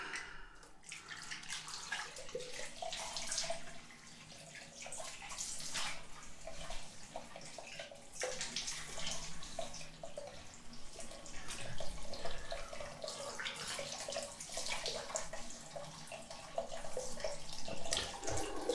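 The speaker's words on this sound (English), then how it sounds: "so I'm going to wash down my face." Tap water running into a basin while a face is washed after a shave, a steady close rush with soft splashing throughout, no voices.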